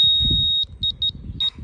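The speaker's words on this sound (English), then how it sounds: "It was also flapping around in the wind, my laser, and I didn't realise that at the time. That's why it's going beep, beep, beep" A laser level on a DIY roof build gives out a long high electronic tone, then several short sharp beeps in quick pairs, loud and close over a low rumble of wind.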